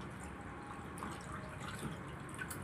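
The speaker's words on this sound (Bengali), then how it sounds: "এটা গরম জল দিয়ে একটু ধুয়ে নিচ্ছি" Hot water runs and trickles steadily over goat meat as it is rinsed, with continuous splashing and dripping close by and no pauses.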